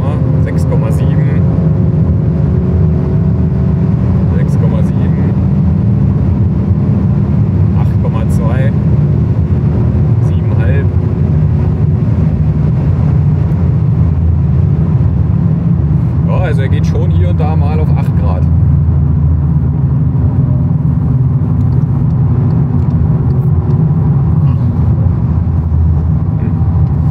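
Car engine held at high revs on a knock test with 95, 98 and 102 octane fuel, a loud steady droning roar throughout with people talking over it.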